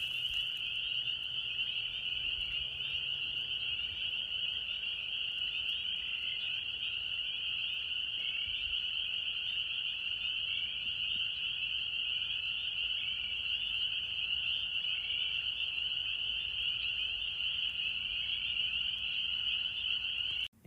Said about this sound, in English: Here is that lovely sound of the peepers.